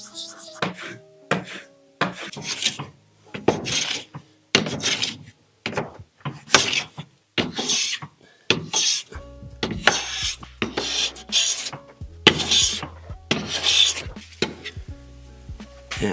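A Stanley No. 5 hand plane, in need of sharpening, planes a wooden workpiece in repeated short rasping strokes separated by brief pauses, close and fairly loud, with occasional knocks between passes.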